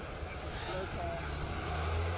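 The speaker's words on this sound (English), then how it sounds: "the glorious sound of an RS3 all-wheel drive. Such an iconic 5-cylinder sound." An Audi RS3 with a five-cylinder engine and all-wheel drive at the Speed Classic hillclimb in Cape Town, a steady low engine rumble that swells slightly near the end while a voice talks over it.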